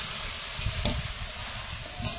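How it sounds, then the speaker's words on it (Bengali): Fried potatoes tumbling into hot, sizzling spice paste in a pan for an egg and potato curry, a continuous close sizzle with a few sharper scrapes and clatters. "মশলাটা কষিয়ে নেওয়া হয়ে গেছে, এর মধ্যে ভাজা আলুগুলো দেবো।"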